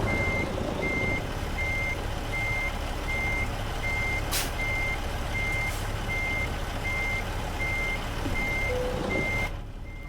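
A truck in American Truck Simulator backs up toward a trailer, its reversing alarm beeping in a steady, evenly spaced series over a low engine rumble, with a couple of brief hissing bursts and no talk.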